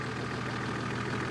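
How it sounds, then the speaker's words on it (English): Big old turbocharged Nissan TD42 diesel engine on a winch-challenge 4x4 running at a steady, continuous low rumble, close and constant, with no talk. "TD42 engine, as we've said. Big old Nissan diesel, turboed."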